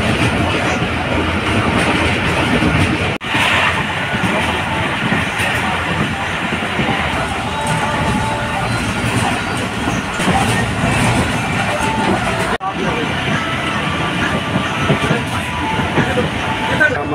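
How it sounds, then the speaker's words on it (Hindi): A passenger train arriving at Liaquatpur railway station, with a continuous loud rumble of wheels and carriages rolling close by and a couple of sharp breaks in the noise, under faint background voices. "हमारी ट्रेन का अराइवल होने वाला है"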